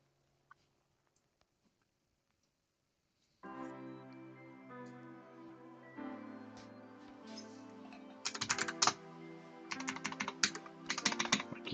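Rapid clattering keystrokes on a computer keyboard, close and clear, starting after a silent stretch and growing busier and louder with dense bursts of typing toward the end.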